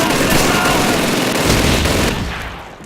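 Sustained machine gun fire in the World War II shooter Call of Duty 2 rattles loud and dense for nearly three seconds, then tails off toward the end.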